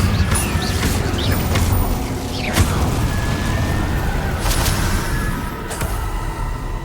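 A fire spell cast in the Hogwarts Legacy video game, heard as a steady, dense whoosh of game effects with mechanical clanks and a few soft bursts, continuous and fairly loud with no talking.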